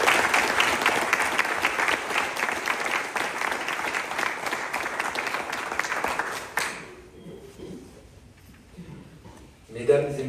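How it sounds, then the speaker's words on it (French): A municipal council chamber bursts into sustained, dense applause from the seated members and audience for about six seconds, then falls quiet before a voice begins speaking. "Je pense qu'on peut l'applaudir."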